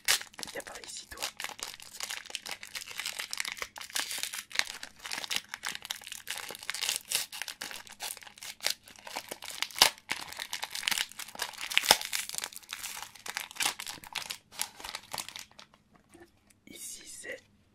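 A BattleTube trading card booster pack is opened very close to the microphone, with continuous crinkling and tearing of the foil wrapper. A soft, whispered voice is heard, and it briefly quiets near the end.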